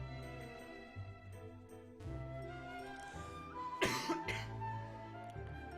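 A person coughs sharply once during a Pokemon Uranium game session, a short harsh burst over background game music.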